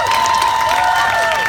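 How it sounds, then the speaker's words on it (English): Rally crowd at the Emanuel 9 Unity event in Charleston cheers loudly and continuously for the city's mayor and council members, a dense wash of shouts and whistles with sustained high tones. "Give a cheer to the mayor of Charleston and the city council members of Charleston"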